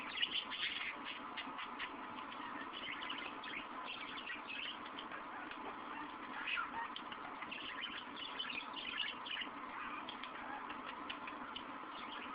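Small birds chirp and twitter quietly in a steady stream, with soft rustling and flutter underneath, fairly faint throughout.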